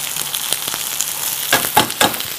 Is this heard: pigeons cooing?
no